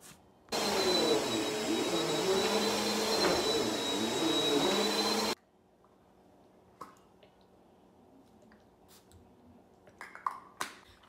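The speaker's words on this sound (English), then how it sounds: "Mom got me a vacuum cleaner." Vacuum cleaner switched on close by, a loud steady whine and roar lasting about five seconds before cutting off, followed by quiet scattered clicks and handling noises.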